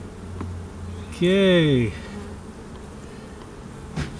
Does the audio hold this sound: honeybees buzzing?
yes